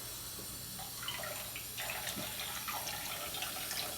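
A kitchen sink tap runs steadily at low flow, a continuous close splashing wash of water with small spattering changes as it hits the basin, with no voices.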